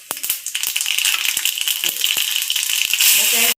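Mustard seeds and cumin popping and crackling in hot oil in a kadhai during tempering, a run of sharp irregular pops over a steady sizzle that swells louder toward the end.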